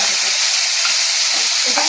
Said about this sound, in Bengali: লবঙ্গ আর সামান্য একটুখানি জিরে এটা আমি ফোড়নে দিয়ে দিলাম